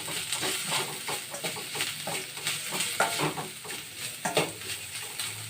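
Leftover rice stirred and sautéed with salt and turmeric in a hot pan, a steady close sizzle broken by repeated scraping strokes of a spatula, with no talking.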